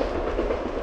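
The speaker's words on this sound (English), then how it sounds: "oh, there goes a train." A train rolls past with a steady rumbling clatter of rail cars, close and continuous throughout, heard outdoors while bikepacking in Sweden.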